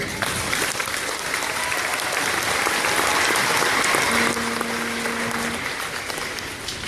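Audience applause fills a Lakewood Elementary school gathering for a teacher of the year announcement, steady dense clapping that holds for about seven seconds at close range, with a brief tonal hum appearing near the end.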